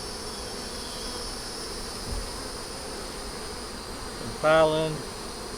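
Honeybees humming around an opened hive during an inspection, a low steady buzz in the background with a short spoken phrase near the end.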